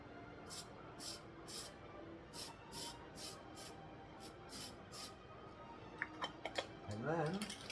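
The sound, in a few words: spray can spraying a scale model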